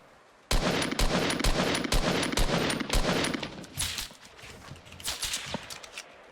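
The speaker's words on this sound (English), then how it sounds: "he's taking semi-auto shots, which is fine" Semi-automatic gunfire in the Fortnite video game: a string of sharp, separate shots, a few per second, loud and close at first, then thinning into fainter scattered cracks, with no talking.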